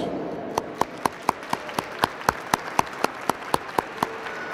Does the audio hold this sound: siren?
no